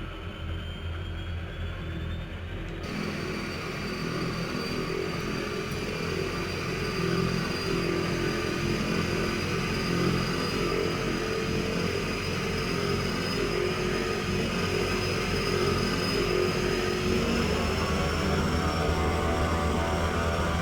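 A steady engine roar builds and holds with a rising high whine, continuous and loud, as an Embraer 110 turboprop spools up in Microsoft Flight Simulator 2020, with no voices.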